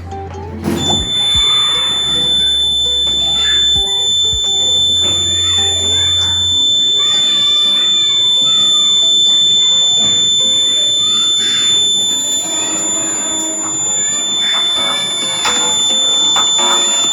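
A water-sensing alarm device sounds its buzzer after a drop of water reaches the sensor, a loud, continuous high electronic tone with lower beeps near the start, while a person speaks over it.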